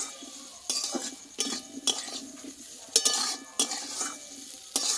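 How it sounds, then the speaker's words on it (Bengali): Spices stirred in a pan for a Bengali papaya and egg curry, with a spatula scraping in a series of sharp, close bursts over a soft, steady sizzle, occasional metallic clinks and no talking. "মশলাটা দিয়ে আমি একটু নাড়াচাড়া করে নিয়েছি"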